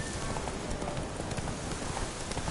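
In The Witcher video game, the horse Roach gallops with a dense, steady clatter of hooves, blended into constant broadband ambient noise at moderate volume.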